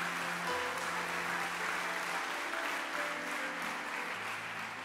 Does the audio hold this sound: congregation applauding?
yes